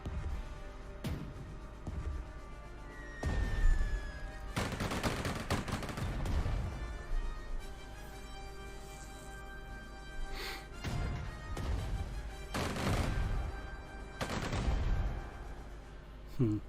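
Repeated gunfire and heavy blasts from a bombing of cities in the World War II strategy game Spectre of Communism, with bursts and booming hits over a steady battle din and a droning engine tone.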